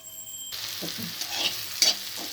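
Onion frying in a spiced tempering of dried chilies, garlic, curry leaves and mustard seeds for jackfruit bhaji, a soft continuous sizzle broken by light stirring scrapes and one sharper clink near the end.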